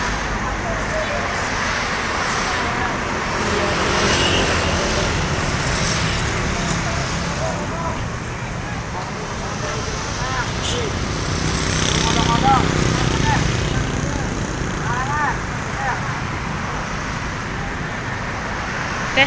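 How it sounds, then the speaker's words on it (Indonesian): A coach bus maneuvering to park on a city street in Palembang, Indonesia: a continuous low engine rumble and traffic noise hold steady throughout, with people talking over it. "sepertinya mau diparkir ini bus Kaisar"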